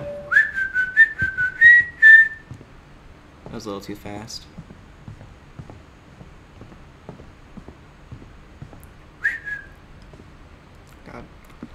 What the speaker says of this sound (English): I like to whistle